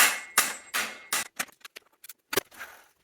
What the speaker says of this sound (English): I can't get the bolt loose, and I don't have a torch or anything to try to heat it up